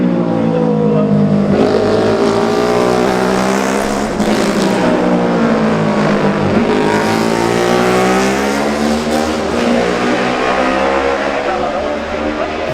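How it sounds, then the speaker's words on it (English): Honda racing motorcycles in a Classic TT junior race scream past one after another, loud engine notes rising and falling as each bike approaches and recedes, with faint talk beneath. "Those were the Hondas of the Frenchman Lancelot Unissar and number 26 Dave Maltravers"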